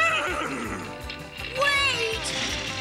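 A cartoon horse whinnies in a rising, shaky call over a thumping musical beat, bright and close, with a voice briefly underneath.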